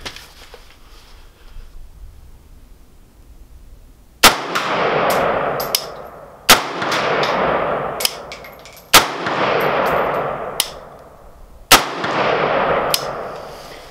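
A Yugo M70ab2 AK-47 rifle fitted with a Century slant muzzle brake fires five single shots outdoors, each a sharp loud crack several seconds apart, followed by a long rolling echo.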